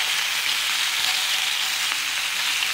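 Bacon sizzles in a hot griddle pan with a steady, close, crackling hiss that continues evenly throughout.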